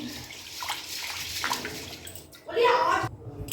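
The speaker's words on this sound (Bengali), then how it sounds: "আরও একবার আমি চালটা ধুয়ে নেব" Rice is rinsed by hand in a pot of water, with a brief close splashing and sloshing burst after low background noise and faint voices.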